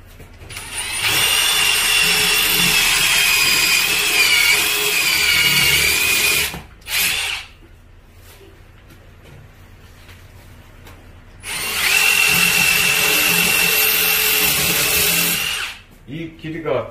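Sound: power drill with 3.5 mm bit drilling through tile and concrete

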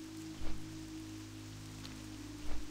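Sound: rain in video game World of Warcraft, Theramore Isle

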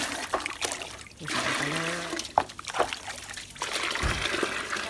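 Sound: water poured into a watering can

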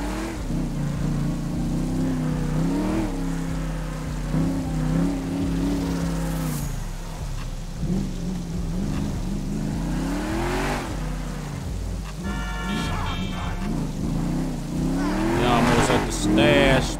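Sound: car engine revving, SS Impala in video game GTA 5

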